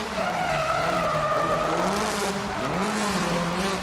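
SR20-powered Toyota AE86 drifting at a Drift Kings Asia event in Malaysia, tires squealing loudly and continuously with wavering pitch over a revving engine, held close and sustained throughout.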